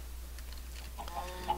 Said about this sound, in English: Let's feed the chickens.